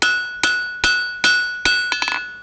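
A blacksmith hammers a hot steel bar for a tie bar on an anvil, five sharp, ringing strikes at an even pace, then a quick cluster of lighter bouncing taps, close and loud with no talking.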